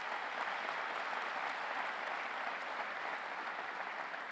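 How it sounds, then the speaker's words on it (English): During a city's 2018 State of the City address, a large audience gives another round of applause, an even, continuous wash of clapping hands that stays steady throughout. "Let's give them another round of applause."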